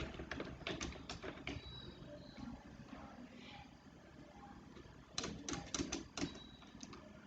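Fingers tap a computer keyboard in two quick bursts of clustered clicks near the start and again near the end, with a quieter stretch of faint room noise between.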